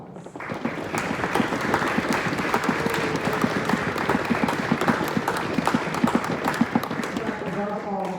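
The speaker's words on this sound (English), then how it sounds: "Students, please give your parents a round of applause." Students on stage at a regional orchestra concert give their parents a round of applause, a dense, sustained burst of many hands clapping close and loud, fading slightly as a voice begins at the end.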